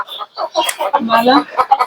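Chickens on a poultry farm cluck in a quick, busy series of short calls, close and fairly loud, with no clear speech among them.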